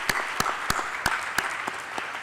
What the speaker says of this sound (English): Can I have one more round of applause to these students on stage